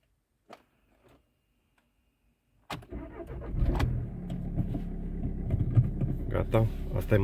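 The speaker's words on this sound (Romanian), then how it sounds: "Asta e mașina de oraș." A city car sits silent after a couple of faint clicks, then its engine cranks and catches abruptly, settling into a loud, rough running rumble close by.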